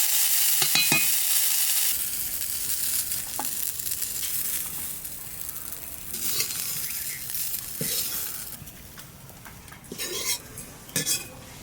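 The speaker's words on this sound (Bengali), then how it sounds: "ধনেপাতা দেওয়ার পর খুব বেশি ভাজবো না, এবার তুলে নেব" Coriander leaves frying in a pan, with a steady sizzle, scraping stirs and clinks of a spatula or utensil against the pan throughout; a brief clatter near the end, and no talk.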